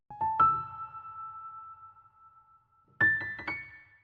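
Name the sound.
piano accent samples from a loop kit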